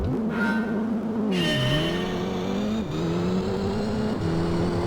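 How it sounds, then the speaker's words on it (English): Mitsubishi Lancer Evolution VII engine from the Gran Turismo Concept racing game on the Swiss Alps track: a steady, loud synthetic engine drone that climbs through the revs, dips at gear changes and climbs again, with no talk. "the Evo 7 has the same engine sound effects the Evo 6 has"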